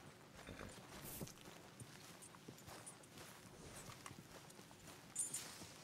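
Hooves of a Shire draft horse clip-clop at a slow walk in the Red Dead Redemption 2 video game, a steady muffled rhythm of steps over a busy outdoor ambience with no talk.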